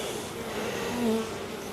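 Honey bees swarm over a frame during a hive brood inspection, a dense close buzzing hum that swells briefly midway, continuous and without speech.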